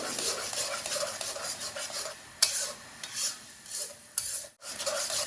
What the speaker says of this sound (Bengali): এইরকমের খন্তি দিয়া লাড়া